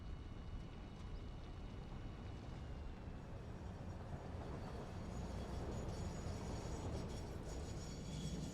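A train pulling into a station in the factory-building game Satisfactory, a steady low rumble and rolling rail noise that swells slightly as it nears, heard alone.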